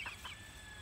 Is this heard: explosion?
no